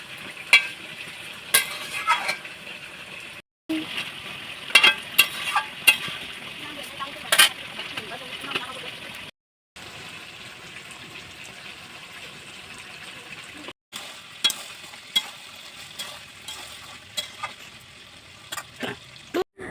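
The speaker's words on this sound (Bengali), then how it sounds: "মাংস কষানো হয়ে গেছে" Chicken curry meat being stirred and sautéed in a pan, a continuous close sizzle with repeated spatula scrapes and knocks, broken by a few short silent cuts.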